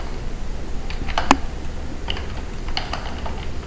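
Keystrokes on a computer keyboard while typing a terminal command, a loose run of quick clicks with one sharper louder tap, close and alone.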